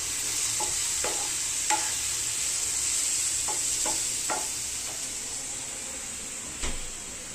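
Vegetables and spices, including coriander powder and Kashmiri red chilli powder, cooking in a pan for a homemade burger filling, a steady sizzle with repeated spatula scrapes and a sharp knock near the end.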